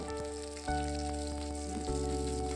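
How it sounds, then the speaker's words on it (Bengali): Onions sizzle steadily in hot mustard oil, a close, continuous crackling hiss over a constant low hum. "এবার ওতে পেঁয়াজ ফোড়ন দিয়েছি।"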